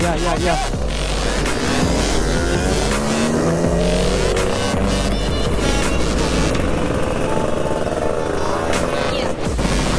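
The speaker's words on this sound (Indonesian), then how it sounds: "Jadi ini banyak motor-motor 2 tak yang datang." Two-stroke motorcycles, including a 125 ZR, gathered for a Makassar Sunday morning ride, buzzing and revving loudly up close with rising and falling engine pitch in a continuous dense roar.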